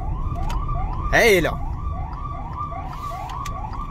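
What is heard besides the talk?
emergency vehicle siren passing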